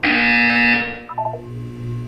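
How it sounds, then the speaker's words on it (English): A loud, flat electronic buzzer tone in the Portal 2 video game, holding steady for under a second before cutting off, followed by a short chirp of blips and a low hum. "You will hear a buzzer. When you hear the buzzer, look down at the floor."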